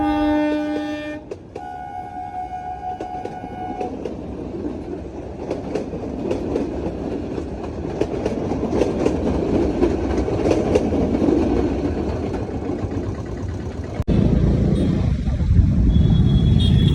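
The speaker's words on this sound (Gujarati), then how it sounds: "તો આવી ગઈ છે રેલગાડી" A train rumbles through a closed railway level crossing, opening with a loud horn blast, then a long steady roar of wagons and clattering wheels passing close by, growing louder toward the end.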